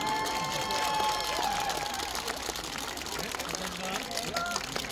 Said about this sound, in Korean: 다시 한번 멋진 승부를 함께 해주신 차이나 팀에게 우리 격려의 박수 부탁드리겠습니다